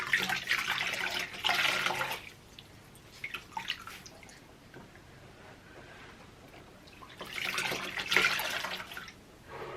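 Wet hand-knitting being squeezed out by hand, giving two bursts of splashing, trickling water with a quieter stretch of drips between them.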